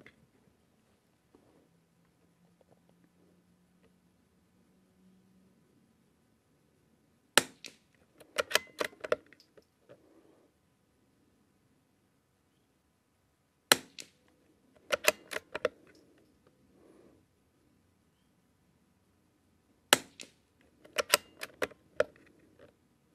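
Rimfire rifle shots from a Lithgow LA101 or CZ455 with Walther barrel, firing Lapua Center-X ammunition at a range: three clusters of sharp cracks with rattling action noise, spaced several seconds apart over quiet background.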